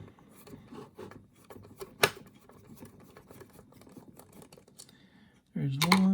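Small screws being removed from the front differential area of a Tamiya TT-02RR RC car, heard as faint close clicks, scrapes and light taps of a tool on plastic, with one sharper knock and a voice speaking at the end.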